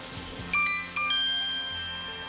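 A doorbell chimes indoors, several bright ringing tones sounding in quick succession and lingering as they fade, with a low steady hum beneath.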